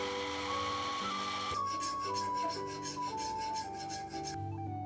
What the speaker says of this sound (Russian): При помощи наждачки и сверла выравниваю радиусы и наживляю утолщение в области гарды.